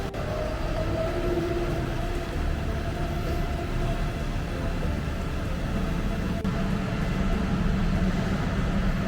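Train pulling into a station in Siem Reap, Cambodia, a steady close rumble of rail wagons and engine drone with faint tonal whine, continuous throughout with no talk.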